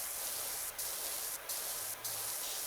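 Continuous broadband spray of a virtual pressure washer in the game PowerWash Simulator 2, steady and close, broken by three brief gaps where the trigger is released.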